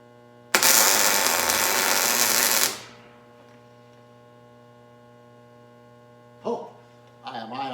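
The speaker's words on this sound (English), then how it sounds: "Now I'm going to put those little welds front and back that I talked about earlier." Small tack welds on a steel dust collection barrel in a shop: one loud, steady crackling burst of about two seconds, then a fade to low mains hum and a brief clatter near the end.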